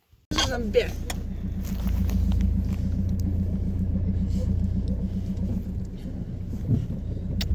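A car rumbles up and idles close by, its low engine drone steady for several seconds after a sudden onset, with faint voices and small knocks over it.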